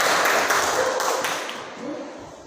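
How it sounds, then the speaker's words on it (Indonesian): An audience in a vocational school classroom session claps hands together, a dense burst of applause that fades out over a couple of seconds. "Tepuk tangan untuk kita semuanya."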